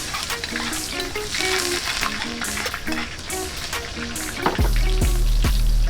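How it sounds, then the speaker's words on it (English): Chopped onions hit hot sizzling mustard oil, a loud crackling fry with clinking stirring taps, the sizzle swelling sharply partway through and staying steady and close. "The oil is sizzling right now. We are gonna add our chopped up onions."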